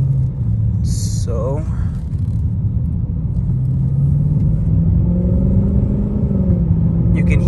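An RCF car accelerates in city mode, a loud steady engine rumble rising slightly in pitch over several seconds, close and continuous, with a person talking over it.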